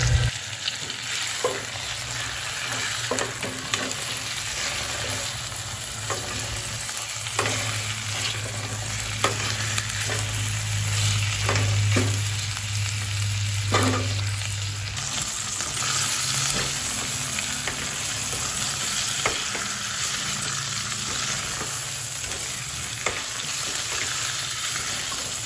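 Fried chicken sizzles in a pan while chicken adobo with ginger is cooked, a continuous crackling fry with scattered stirring clacks and scrapes, close and steady throughout with no talk.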